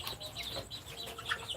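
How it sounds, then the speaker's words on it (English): Several cockerels and broiler chickens cluck and murmur close by in short overlapping bursts, a busy flock sound with no talking. "these are cockerels and broilers"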